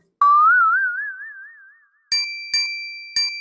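A comedic doorbell chime starts with a long wobbly boing-like tone, then three bright, evenly spaced ding rings follow, loud and close with no voices.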